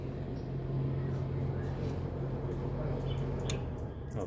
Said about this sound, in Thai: โอเคดับแล้วครับเสียงรีเลย์ออฟแล้วนะครับ